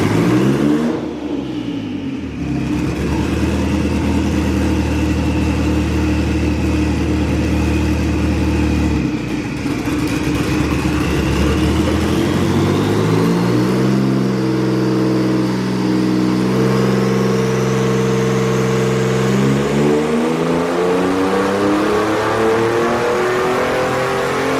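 A broken twin-turbo Mitsubishi Triton engine revs hard on a dyno, rising and holding through long sustained pulls with shifting pitch, loud and close throughout.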